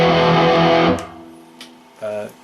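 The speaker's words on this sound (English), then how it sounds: "that basically is like having a Mesa Boogie in a pedal, which really gives me those kind of heavy tones" A heavy, distorted electric guitar chord rings out through a Mesa Boogie-style amp-in-a-pedal, then cuts off, followed by a short, quieter distorted stab near the end.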